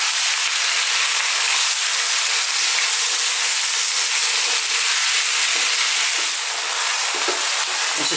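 Onions sizzle and fry in a pan over high heat for an Indian chicken curry, a steady, loud, dense hiss with occasional stirring clatter and no talking.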